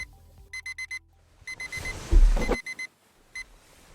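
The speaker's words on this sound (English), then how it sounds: "That's your alarm." An alarm clock beeps in quick groups of four electronic tones, interrupted by a brief rustling thump, then the beeping resumes, loud and close.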